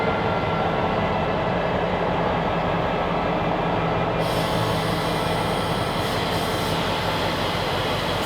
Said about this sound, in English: we're taking the tram back up to the boat.